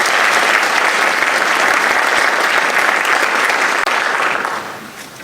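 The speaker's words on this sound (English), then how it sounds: "A big thank you and round of applause to Ms." An audience at a high school academic awards night gives Ms. Kimberly McCann a round of applause, a loud, dense, continuous roar of clapping that fades near the end.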